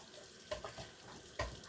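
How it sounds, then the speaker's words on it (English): A kitchen tap runs hot water into a sink to wash a bowl, a faint, steady hiss with a couple of soft knocks of dishware. "I'm going to quickly wash up this bowl."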